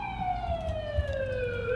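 Ambulance siren from the video game The Coma: Cutting Class, a steady wailing tone sliding slowly downward as it passes, loud and continuous over a low rumble, with no speech.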